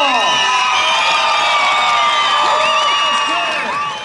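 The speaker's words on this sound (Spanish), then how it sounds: "si ustedes creen que ellos pasan, ¡el aplauso!" A large crowd at a bull-riding tournament cheers, whistles and shouts in a loud, continuous roar that fades slightly toward the end.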